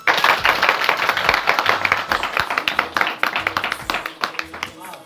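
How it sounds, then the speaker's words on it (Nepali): Wedding guests applaud together during a ceremony in Narikot, a dense steady patter of many hands clapping that carries on for several seconds, with speech faintly mixed in underneath. "ताली बजाऊ"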